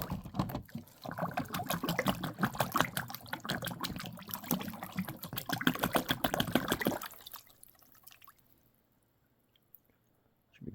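Water sloshes and splashes rhythmically in a gold pan outdoors in winter, a steady swirling and churning for about seven seconds before it stops and goes nearly quiet.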